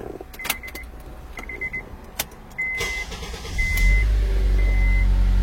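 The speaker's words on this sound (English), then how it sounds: "Let's start the car." A car engine cranks and catches at the start, after a few dashboard chimes and clicks, then settles into a steady low idle close by.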